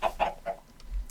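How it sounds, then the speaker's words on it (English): Minecraft chickens clucking from a crowd of birds beneath: three quick, clear clucks in a row, then quieter, sparser cackles fading off, no talk. "there are multitudes of chickens under here"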